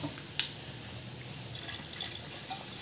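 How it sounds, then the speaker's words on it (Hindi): Water poured into a pot of Punjabi mutton curry, a soft steady splashing and trickle with faint bubbling, close and quiet, no talking. "मैं थोड़ा सा पानी और डालूंगी"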